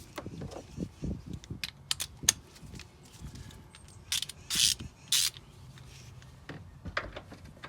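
Hand tool working a bolt on a 2001-2006 Acura MDX rear shock absorber, a run of quick clicks followed by sharp metallic clinks and scrapes, close up and moderate in volume, with a few murmured words.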